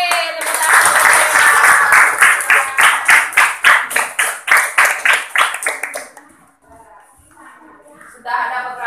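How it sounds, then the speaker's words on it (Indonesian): A group claps in quick unison during an English greetings session, a loud and steady rhythmic beat of about four claps per second that stops abruptly, followed by a brief hush and then a voice speaking. "tepuk tangan"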